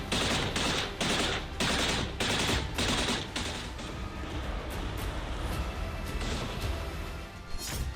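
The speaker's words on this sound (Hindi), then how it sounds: "यूक्रेन और रूस की सरहद लगातार गोलीबारी और रॉकेट हमलों से गूंज रही है।" Rapid bursts of gunfire crackle in repeated volleys on the Ukraine-Russia border, then blend into a continuous rumble of distant shooting and rocket explosions.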